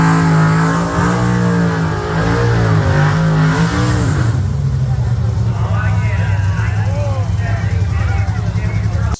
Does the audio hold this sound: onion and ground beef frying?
no